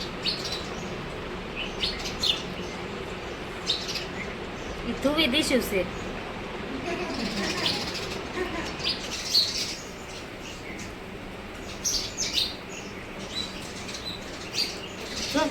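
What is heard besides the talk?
sparrows chirping and flapping wings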